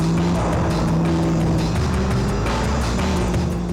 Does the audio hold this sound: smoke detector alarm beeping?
no